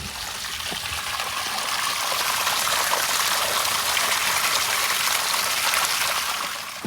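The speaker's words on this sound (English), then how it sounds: "The water at this little hose here is always running." Water runs steadily from a small hose outdoors in Japan, a continuous broadband trickle and splash that stays close and even throughout, with no voices over it.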